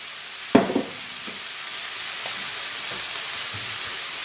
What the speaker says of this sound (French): une fois que vous avez fait revenir vos oignons, vous ajoutez donc votre viande hachée